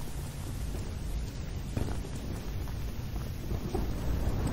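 Steady rain in the video game Choo Choo Charles, a dense continuous hiss with soft rumbling underneath, loud and unbroken throughout without talk.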